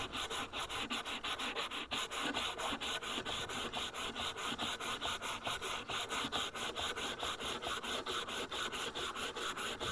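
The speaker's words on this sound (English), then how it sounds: "watching an old guy sand is not the best thing in the world" Rhythmic back-and-forth rubbing as a wooden walking stick is sanded, each stroke a close, steady rasp repeating evenly for the whole stretch with no talk.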